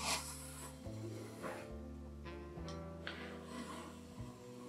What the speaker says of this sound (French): Donc je fais le tour de mon assiette et je découpe.